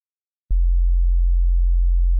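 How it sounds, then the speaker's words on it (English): A pure synthesizer sine wave bass tone at about 43 hertz, the lowest F on the keyboard, starts abruptly after a moment of silence and holds as a loud, steady deep hum. "That's just a sine wave playing at approximately 43 hertz."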